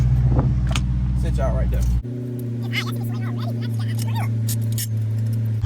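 A Dodge 392 V8 idles as it warms up, its deep, steady rumble close and continuous after a brief shift in tone early on, with people talking over it.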